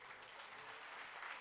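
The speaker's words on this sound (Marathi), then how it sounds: "जरा टाळ्यांचा कडकडाट तर करा" Applause from a seated audience at a felicitation ceremony, a faint but continuous wash of many hands clapping, steady and even with no voices over it.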